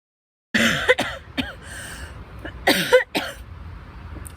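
A few sharp coughs break a short silence, the first pair close together and another pair a couple of seconds later, near and fairly loud.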